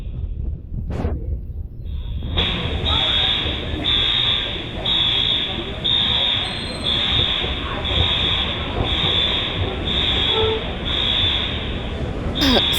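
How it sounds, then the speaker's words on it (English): An alarm rings inside the New York Port Authority bus terminal, a steady repeating electronic tone pulsing about once a second over the hubbub and echo of the crowded hall. "Somebody done pulled the daggone alarm"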